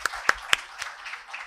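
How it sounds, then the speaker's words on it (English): Audience at an awards ceremony applauding, with a few sharp individual claps standing out at the start and scattered clapping continuing, fairly close. "Please give a huge round of applause."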